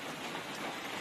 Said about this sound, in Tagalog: Maulan ngayon dito.